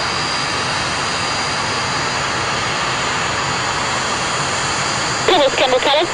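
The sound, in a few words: Antonov AN2 biplane landing at an air display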